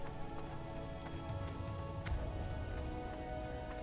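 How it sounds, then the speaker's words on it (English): Steady rain falling as a weather effect in World of Warcraft Classic in the Wetlands, a faint continuous patter with scattered drop ticks. "Hey, it's raining! Look at those weather effects."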